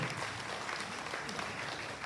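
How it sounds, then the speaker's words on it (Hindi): Audience clapping at a Hindi humorous and heroic-verse poetry gathering, a short burst of dense hand claps from the crowd with some voices mixed in underneath. "पीछे एक बार हाथ उठाकर ताली बजाकर बताएं"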